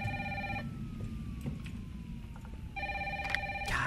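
A telephone rings in the game Resident Evil 3 Remake: two electronic trilling bursts separated by a pause filled with low ambient rumble and faint clicks, at moderate level.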